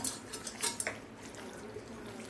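Chicken 65 pieces being mixed by hand with homemade curd marinade in a bowl, giving a few soft clinks and wet squishing movements up close, with no talking.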